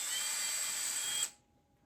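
A 1/4 inch drive impact driver runs in one steady high whine while fastening during light switch wiring, close and fairly quiet, then cuts off abruptly near the end.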